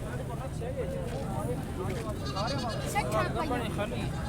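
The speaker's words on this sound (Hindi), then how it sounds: "ये एक बड़ी बकरी खड़ी है" Goat bleats at a livestock market, with repeated wavering calls from nearby animals over steady crowd babble and talk, the bleating rising most clearly toward the end.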